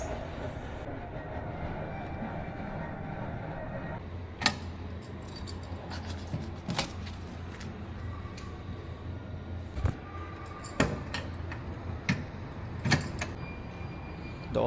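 A bunch of house keys jangling in short, intermittent metallic rattles and clinks over a steady low background rumble, fairly close, with no talk.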